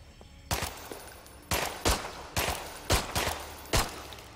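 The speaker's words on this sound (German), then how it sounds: "wie oft soll ich den noch auf den Kopf schießen?" Gunfire in the zombie survival game Contagion: about seven or eight sharp shots spaced irregularly, some in quick pairs, loud and close over a low background hum, with no talking.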